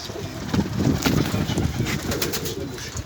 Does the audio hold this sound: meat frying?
no